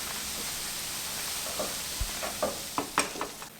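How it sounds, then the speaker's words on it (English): Cream and oyster liquor are stirred together in a pan for oyster patties, a soft steady sizzle with scattered light scrapes and taps of the spoon toward the end. "First we'll add the cream, mixing it in."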